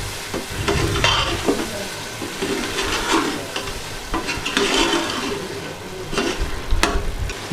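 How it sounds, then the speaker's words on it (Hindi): Chickpeas stirred with ghee in a pot for chana masala, a steady wet scraping and sizzling with repeated spoon strokes, close and continuous. "घी डालने के बाद अच्छी तरह मिक्स कर लेंगे।"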